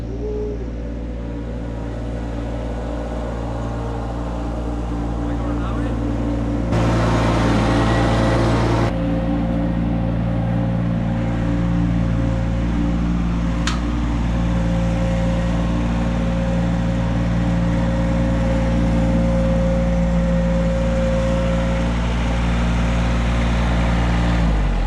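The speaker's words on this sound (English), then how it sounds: "Sounds like a tractor." A tractor engine in the distance near a backyard pond build, a steady low rumble that swells slightly and holds without talk over it.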